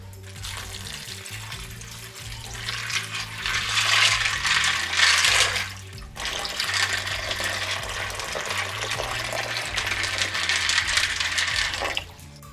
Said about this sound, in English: now you want to cover them with water